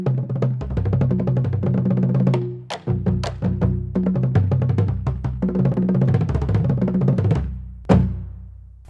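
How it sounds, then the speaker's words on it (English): Ergosonic marching bass drums pounding out a fast run of deep tuned strikes stepping across pitches, loud and close, with a few sharp accents and a brief lull near the end. "These are ergosonic marching bass drums."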